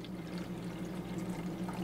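Water steadily pours into the vessel of a ZRDR CO2 generator, about 300 milliliters, a continuous close, even splashing and filling sound with no speech.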